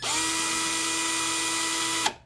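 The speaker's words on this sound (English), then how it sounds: "so now we're going to go ahead and start drilling this thing now" Power drill boring into a plastic Marvel Legends action figure during a repair, a steady high whine held for about two seconds before stopping abruptly, close and loud, no talking.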